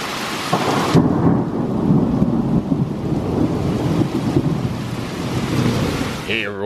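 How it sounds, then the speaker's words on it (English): A passing summer thunderstorm with heavy rain hissing steadily and deep rolling thunder rumbling loud and near throughout, with no voices heard. "We had quite a bit of thunder and lightning."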